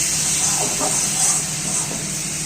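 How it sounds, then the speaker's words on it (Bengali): Black cumin seeds tempering in hot oil give a steady, loud hissing sizzle that holds throughout, close up and without pause. "আমি কালো জিরে ফোড়ন দিচ্ছি।"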